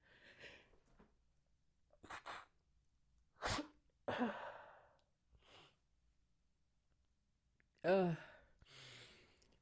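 A single sharp sneeze rings out close by amid quiet breaths and sighs, with a few soft vocal sounds around it.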